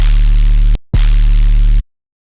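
Two sustained, deep synth sub bass notes without group processing, with noise and distortion on the sub, loud and buzzy with a layer of hiss on top, separated by a brief gap of silence.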